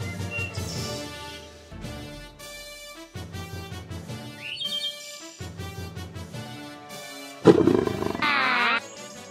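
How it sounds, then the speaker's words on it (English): A loud, close tiger roar from a jungle-themed toy playset bursts out near the end after several seconds of rhythmic background music, with no talking. "Oh my, I think that was a tiger."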